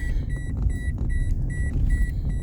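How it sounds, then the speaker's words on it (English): A car's seatbelt warning chiming inside the vehicle, a quick series of regular high electronic beeps over a low engine and road rumble, several repeated evenly. "I don't have my seatbelt on, that's why it's like beeping."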